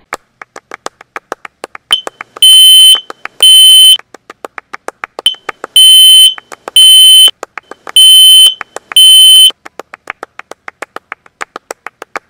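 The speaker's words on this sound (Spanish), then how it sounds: "the smoke alarm that you send, will let you know what's going on" A smoke alarm sounds in three loud double bursts of piercing high beeping, separated by steady trains of short sharp clicks or ticks.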